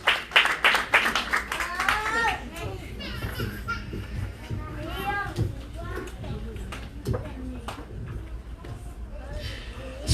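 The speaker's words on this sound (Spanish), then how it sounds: "Aplaudan al Señor" A church congregation claps in a burst of sharp, rhythmic hand claps that fades into scattered claps under voices and children's chatter.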